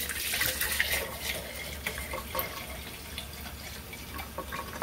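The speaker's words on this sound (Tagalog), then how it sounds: "Ibabad natin ng tubig yan." Water is poured into a container to soak dried scallops for a Chinese ground pork dish, a steady close splashing stream that runs without pause and with no talk.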